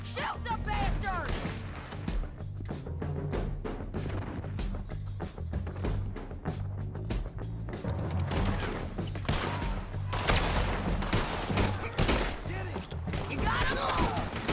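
Dense gunfire in the video game Red Dead Redemption 2, with repeated shots and heavy impacts in a continuous loud barrage over music and game sound, while people talk over it.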